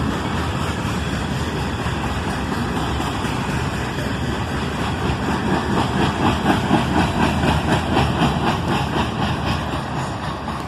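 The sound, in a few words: freight train passing with coil shield cars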